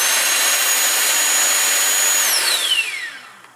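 The secondary air injection pump on a BMW 328i runs with a loud, steady electric whine and rushing air, close and alone, then spins down with a falling pitch as it shuts off near the end.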